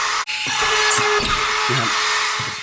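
A Dewalt DCE555B multi-purpose drywall cutting tool runs at high speed while boring through lightweight gypsum wall board, a loud, steady whine with a brief drop at the start and short bursts of grinding and cutting noise.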